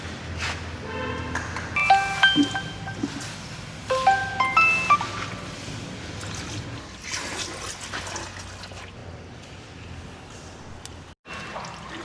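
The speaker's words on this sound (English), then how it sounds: "We will allow some time so that the rest of the engine oil drains out perfectly" Engine oil drains out of a Honda City at a local workshop as a steady liquid trickle and drip under a workshop hum, with a few faint pings and clinks early on.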